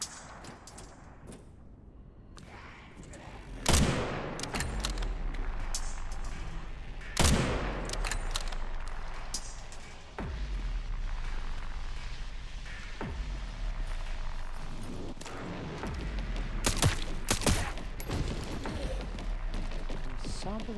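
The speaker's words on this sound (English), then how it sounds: "since when did zombies begin to have fucking mortars?" Zombie mortar fire and explosions in Resident Evil Requiem: several loud booming blasts land at irregular intervals over a continuous rumbling battle din, with occasional talk underneath.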